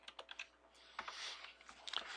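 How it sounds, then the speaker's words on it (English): A short burst of keystrokes types a brief command on a computer keyboard, with quick irregular clicks close to the listener, fairly quiet and without speech. "Let's type in dir."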